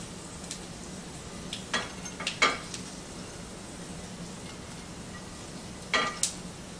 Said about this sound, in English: So when they start popping, I guess we're done, because they're starting to pop